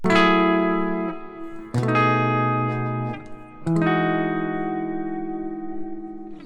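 Three sustained keyboard chords played one after another, each rich and full with stacked 7th, 9th, 11th and 13th extensions, ringing out and overlapping with slight reverb.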